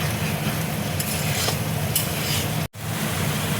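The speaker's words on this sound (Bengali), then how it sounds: "মশলাটা দেখো ভালো করে কষিয়ে নেব।" Spice paste with added water and salt being fried and stirred in a pan for katla fish dompokto, a steady close sizzle with scraping strokes, broken by a brief pause near the end.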